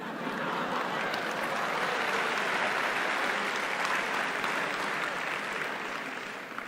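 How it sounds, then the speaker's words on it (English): Sustained applause from a lecture audience, dense and steady throughout, fading slightly at the end, with no voices over it. "the fact that you clapped shows you weren't listening"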